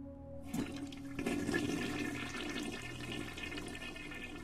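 Toilet flush in the Steins;Gate visual novel: a sudden rushing gush of water begins after a quiet moment, then settles into a steady, fairly close draining and refilling hiss with no talking.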